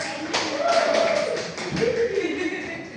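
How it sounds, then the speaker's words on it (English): Brief scattered clapping from a small group, light and uneven, mixed with voices and chatter over a few seconds. "Please give applause for our"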